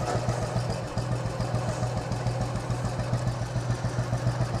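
Royal Enfield motorcycle engine idling steadily nearby after a kickstart, a continuous low throbbing thump with an even, rapid pulse throughout.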